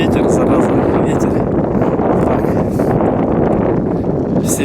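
Strong Ural storm wind batters a microphone outdoors, producing a loud, continuous roaring rumble with gusty buffeting throughout and a voice partly buried in it.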